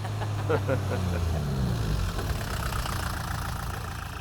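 A tractor engine idling nearby, a steady low rumble with a brief lower droning hum early on, under faint voices.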